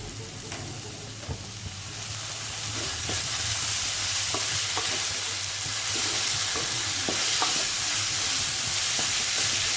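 Ginger-garlic paste frying in a pan for paneer bhujia, with a steady broadband sizzle throughout, close and moderately loud, and scattered light clicks of a spoon stirring. No voices.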